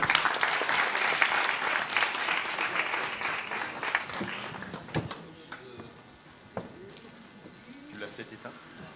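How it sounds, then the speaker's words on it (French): A crowd at a press conference for the Grand Raid race applauds, loud at first and gradually thinning out to scattered claps as voices start talking over it. "On peut les applaudir."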